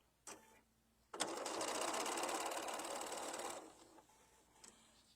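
A sewing machine stitches a fabric tabletop banner in one steady run of about two and a half seconds, close and fairly quiet, framed by faint clicks and handling sounds before and after.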